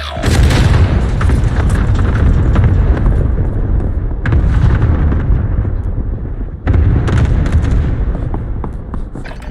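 Frag grenade blasts in Call of Duty Warzone, three heavy booming explosions at roughly four-second intervals, each a loud broadband roar that rumbles and slowly decays, with no voices over them.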